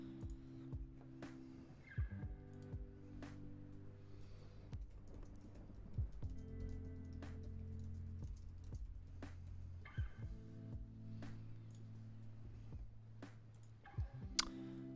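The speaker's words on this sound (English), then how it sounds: "I've been typing, you just haven't noticed me." Steady typing on a computer keyboard, with continuous soft key clicks and occasional louder taps over a low background tone, with no voices.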